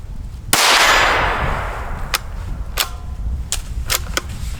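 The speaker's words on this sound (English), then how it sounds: "Sounds like a gunshot." A sharp rifle shot cracks out and rings away, followed by several more quick gunshots spaced unevenly, loud and close.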